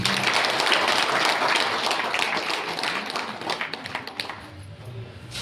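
Loud crowd applause at a Hindi-language seminar or advisory meeting, dense steady clapping that fades slightly toward the end, with no speech over it.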